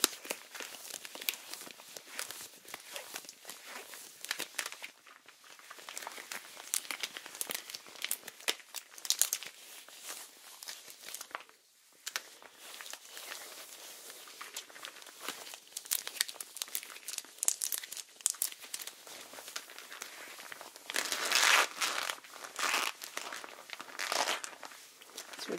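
Brand-new, shiny latex glove covers crinkle and rustle up close for ASMR, a long stream of crisp crackles and scrunches, with a brief pause midway and a louder burst near the end.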